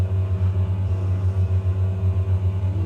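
Embraer 110 engines at idle in Microsoft Flight Simulator 2020: a steady, low drone with a pulsing rumble, a deep mechanical tone that stays constant without any voices.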